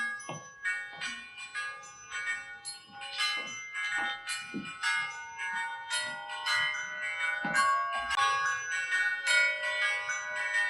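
Church bells toll and chime in a steady, ringing sequence of overlapping strikes, loud and resonant, each note sustaining into the next with no voices over them.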